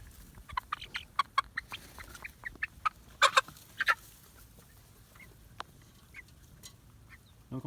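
A flock of 64 chickens in a farm coop with a sorghum and corn field nearby, giving scattered clucks and squawks at moderate distance, busiest in the first four seconds and then thinning to occasional calls.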